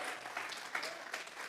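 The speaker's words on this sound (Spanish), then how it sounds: "Le vamos a regalar ofrenda de palmas al Dios de la gloria." A church congregation at a Sunday service claps in a brief, dense burst of applause, moderately loud and without speech.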